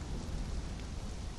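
A thunderstorm in Conan Exiles: constant rain noise over a deep, low rumble that rolls on throughout, evenly loud and with no talking.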